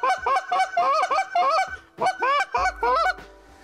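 A hunter blows snow goose calls to imitate a flock, producing rapid, loud honking bursts in quick rhythmic clusters with brief pauses between them.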